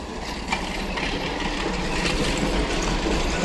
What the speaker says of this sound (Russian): О, трамвайка.